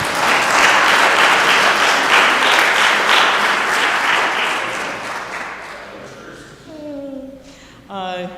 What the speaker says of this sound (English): And I think we should clap for Lori